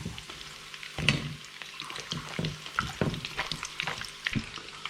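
Breadcrumbed squid frying in a pan, a bright steady sizzle with scattered crackles and occasional louder pops and stirring scrapes, close and alone.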